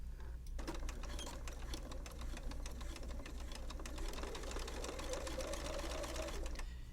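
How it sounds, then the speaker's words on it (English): Steady sewing machine whirring, close and continuous, as topstitching runs right along the edge of a zipper bag, with a low hum underneath and faint talk in places. "I'm gonna top stitch really, really close to the edge there"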